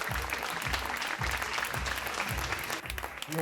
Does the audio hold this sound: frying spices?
no